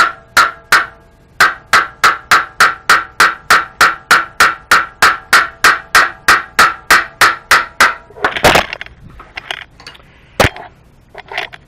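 Rapid, evenly spaced metallic taps on the ignition of a Yamaha R3 motorcycle, about two dozen sharp close strikes in a steady rhythm, then a few scattered knocks and scraping handling noises.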